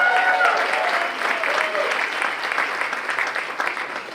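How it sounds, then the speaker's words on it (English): An audience at an entrepreneur speaker event applauds in a dense, steady burst of clapping that fades slightly over a few seconds. A brief voice cuts through at the start. "Give a round of applause."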